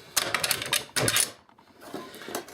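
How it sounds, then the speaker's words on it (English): An AK rifle bolt assembly is dropped back into the receiver, producing bursts of close, sharp metallic clicks and rattles, then a short pause and a few fainter clicks. "Drop your bolt assembly back in."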